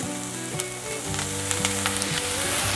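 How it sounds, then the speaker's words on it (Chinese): Carrots, corn kernels and red bell pepper stir-fried in a hot pan, a steady close sizzle broken by scraping spatula strokes and the clatter of tossing, with a low tonal hum running underneath. "快速的翻炒。"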